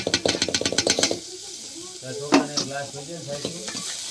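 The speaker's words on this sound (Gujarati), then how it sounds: "આમાં આપણે રાય એડ કરીશું રાય આવી જાય એટલે હિંગ આપણે એડ" Mustard seeds and asafoetida sizzling in hot tempering oil, with a rapid burst of seed pops and spatula taps up front, then a softer sizzle while someone talks over it.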